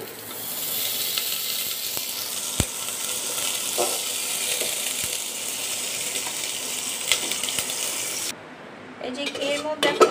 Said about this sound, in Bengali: ঘিয়ের মধ্যে এখন ভালো করে ভেজে নিচ্ছি নাড়াচাড়া দিয়ে।